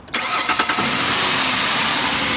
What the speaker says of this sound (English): We're going to listen to it start right now.